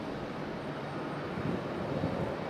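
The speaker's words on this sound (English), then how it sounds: "We got an American 737 taxiing out as well." A distant American Airlines Boeing 737 taxiing at the airport gives off a steady, even engine rumble and roar, with no voices.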